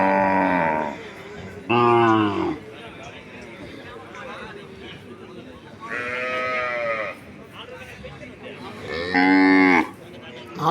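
Native cattle at the Pazhayakottai native cattle market moo loudly and close by in four long, drawn-out calls spaced several seconds apart, over a steady background of crowd murmur and market bustle.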